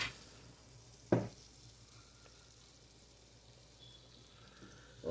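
Flour cooking out in a pan for smothered pork chop gravy, giving a quiet, steady sizzle and hiss with a couple of brief knocks from stirring.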